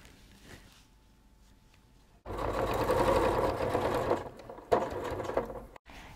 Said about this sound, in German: Und daran nähen wir jetzt unseren Futtertaschenbeutel fest.